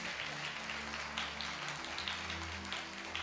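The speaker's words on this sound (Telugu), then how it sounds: "గట్టిగా చప్పట్లు కొట్టాలి." Church congregation clapping hard together during a worship service, a dense run of applause under a low musical backing, moderately loud and continuous for a few seconds.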